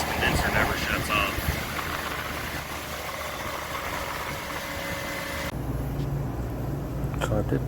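A walk-in cooler's condenser unit running nonstop gives a steady mechanical hum and whir, close and loud, with a change in tone partway through.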